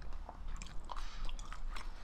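Close, crisp chewing and biting of grilled salted mackerel roasted whole with perilla seeds, a few irregular crunchy bites over about two seconds with no talking.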